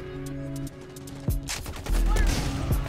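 Gunfire in the Halo 5 video game: sharp, repeated shots and heavier blasts come in bursts over sustained in-game tones, growing louder in the second half.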